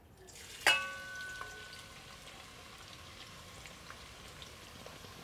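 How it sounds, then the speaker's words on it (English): Sliced onions go into hot oil with spices: one sharp splash and clatter, then a faint, steady sizzle that carries on quietly with no talking. "Let the onion cook for a few minutes."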